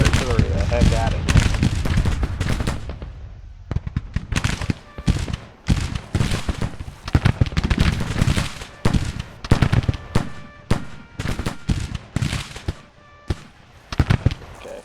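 Artillery and musket fire in the Civil War strategy game Grand Tactician, a long run of sharp booming reports and crackling volleys, some overlapping, loud and irregular, with scattered talk mixed in.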